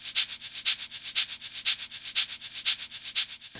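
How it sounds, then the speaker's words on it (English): Butternut squash is being pureed until smooth and creamy, with close, rhythmic scraping and rubbing strokes repeating about four times per second, steady and fairly loud with no voices. "We're pureeing the squash until basically you want it nice and creamy and no chunks."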